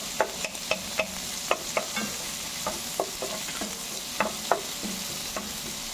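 Onion being sautéed in a pan, with a steady sizzle and a series of sharp clinks as a utensil strikes the pan while stirring, no talk.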